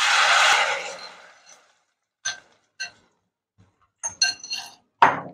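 A ladle works a kadhai of curd and peanut paste with paneer for white gravy paneer: an initial loud wet sloshing wash, then sparse metallic clinks and scrapes at irregular intervals, close by.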